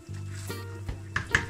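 Curry chicken being stirred in a pot for a simple Jamaican curry: a short burst of sizzling with a couple of soft scraping stirs and clinks against the pot, close and fairly quiet, no talking.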